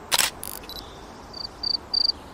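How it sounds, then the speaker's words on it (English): Short, high-pitched cricket chirps in a video game, coming in brief repeated pulses that grow more regular toward the end, after a couple of sharp clicks at the start. "oh, we got a cricket now"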